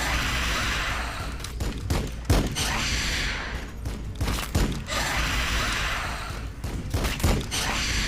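Units fire on enemy troops in the strategy game Warhammer 40,000: Battle Sector. Dense volleys of gunfire crackle in repeated waves, broken by sharp impact thumps and flashes of louder shots.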